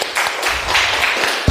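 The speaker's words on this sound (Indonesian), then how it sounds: "Tepuk tangannya anak-anak" A class of schoolchildren claps together in a brief burst of dense, close applause lasting under two seconds.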